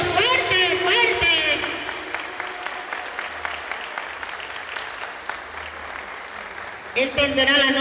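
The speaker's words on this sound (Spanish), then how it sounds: "¡Vengan esos aplausos! ¡Fuerte, fuerte!" Crowd applause at a local candidates' forum in Morropón greets the justice of the peace, a sustained patter of clapping running under an amplified voice that speaks at the start and again near the end.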